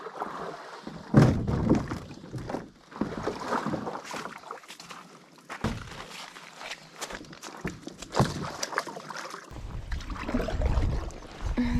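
A canoe paddled across a wilderness lake, with irregular watery strokes and splashes sounding close by over a steady outdoor background.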